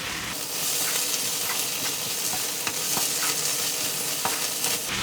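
Prawns frying with onions in a pan, a continuous bright sizzle broken by occasional scraping stirs and light clicks of the utensil, heard up close with no voices.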